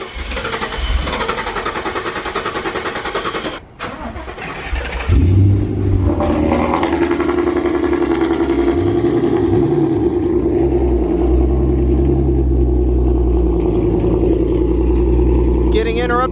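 Ford Mustang engines rumble nearby, one starting up abruptly and settling into a loud, deep, steady idle with slight revs, while people talk underneath.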